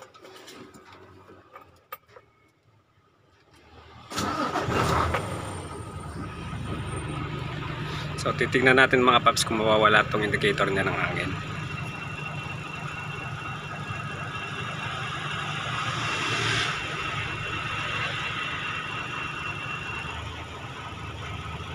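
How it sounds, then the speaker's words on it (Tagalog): A truck engine starts up and settles into a steady idle during a power shifter replacement, someone talking over the continuous rumble. "Ayan, papanda rin natin yung makina."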